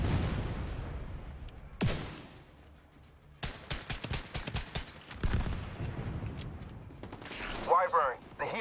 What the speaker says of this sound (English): I'm gonna shoot at the things now.